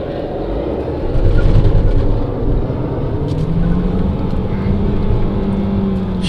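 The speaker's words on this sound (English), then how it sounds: "This is one of them Nissan CVT transmissions that has really been acting up" A Nissan car with a troublesome CVT transmission drives along, a loud steady engine and road drone with a slowly rising whine from inside the cabin.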